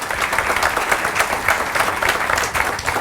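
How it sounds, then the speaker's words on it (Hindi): A roomful of people at a motivational training session in Mumbai clap enthusiastically, dense and close, with individual hand claps standing out in a lively, uneven rhythm throughout. "एक जोरदार तालियां हो जाए इनके लिए"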